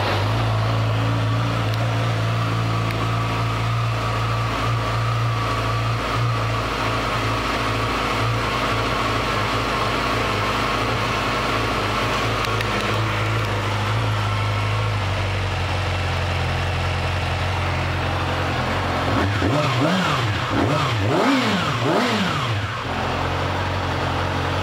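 A 2017 Yamaha YZF R6 sport motorcycle with 13,912 miles idles steadily up close, then near the end gives a few sharp revs that rise and fall in quick succession.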